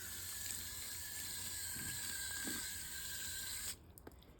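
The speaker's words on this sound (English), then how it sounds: "So I'm just gonna water it a bit more." Water sprays steadily from a hose or tap onto garden plants in the heat, a continuous close hiss that cuts off abruptly near the end, leaving a few faint drips.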